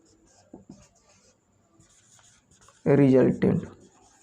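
Faint scratchy strokes of writing on a board during an engineering mechanics lecture on equilibrium, soft and intermittent at first, then a voice speaks briefly over them.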